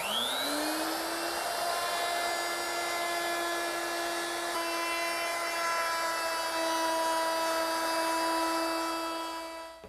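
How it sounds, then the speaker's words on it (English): A router fitted with a quarter-inch roundover bit rounds over the edges of an ash board, giving a loud, close, continuous high whine. It spins up at the start, then holds steady with a bright harmonic tone and no talk. "to do that, I'm going to use my 1/4 inch rounding over bit"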